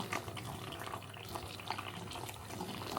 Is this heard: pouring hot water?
yes